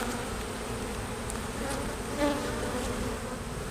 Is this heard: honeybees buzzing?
yes